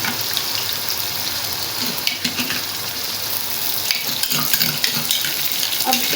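Tomatoes hitting a pan of frying chana pulao masala set off a steady, fairly loud sizzle with brief bursts of stirring and spattering, close by and with no voices.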